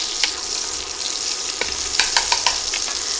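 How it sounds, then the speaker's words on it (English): Steady bright sizzling of chicken pieces frying in hot oil in a pot on an induction burner, with scattered crackles and pops, close by and continuous, no voices. "we've got a nice sizzle going here"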